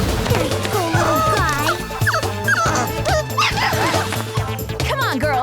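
A cartoon puppy yips and whimpers in repeated high, wavering cries over a steady background music bed, close and loud, with speech mixed in.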